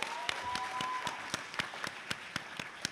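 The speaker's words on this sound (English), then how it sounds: "Round of applause for people who are old school." Audience applause at a San Diego Comic-Con 2016 Tomb Raider panel: steady clapping from a crowd filling the room, heard at a moderate distance, with a few louder individual claps standing out above the wash.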